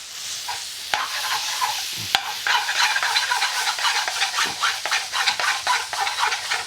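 Patak's Balti paste fries in a pan for a chicken tikka curry, bright crackling sizzle with brisk rhythmic stirring and scraping close by, no voices.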